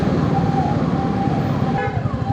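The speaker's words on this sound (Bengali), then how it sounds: "অ্যাম্বুলেন্স আছে তো খুলেই দেবে তাড়াতাড়ি সিগন্যাল" An ambulance siren wails through city traffic, its rising and falling tone riding over a dense bed of road and engine noise close by.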